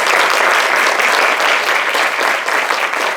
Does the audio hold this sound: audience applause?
yes